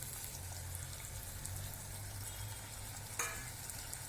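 Eggplant and Surti papdi beans fry in a pan with a steady, even sizzle that holds alone the whole time. A single sharp scrape of stirring cuts in near the end.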